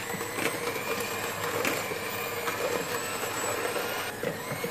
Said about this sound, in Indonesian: Ini akan aku mixer, terus susunya aku masukkan perlahan-lahan